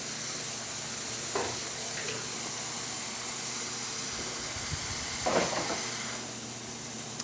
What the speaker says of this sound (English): the steam coming out of this one is amazing